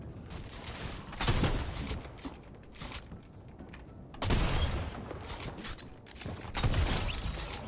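Pump shotgun blasts in the Fortnite video game, three loud booming shots spaced a few seconds apart over a steady game background.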